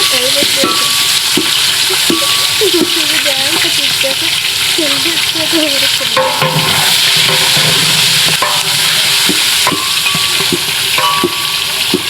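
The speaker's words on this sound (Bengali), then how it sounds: "মাছ ভাজা চলছে এখানে" Salted, turmeric-coated rohu fish pieces fry in hot oil, giving a loud, continuous close-up crackle and sizzle with occasional spattering pops throughout.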